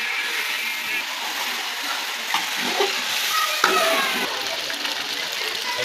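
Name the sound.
chicken frying in a pan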